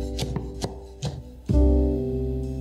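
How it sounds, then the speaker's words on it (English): A knife chops a good handful of fresh coriander finely on a board, several quick close cuts at an uneven rhythm, then a sustained low hum continues behind the last strokes. "I'm also grabbing a good handful of fresh coriander and chopping it pretty fine."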